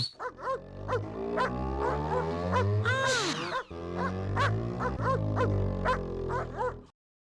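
A cartoonish dog barks and yips repeatedly in a playful video game, with rhythmic bright barks over steady background music, fairly loud and continuous before cutting off abruptly.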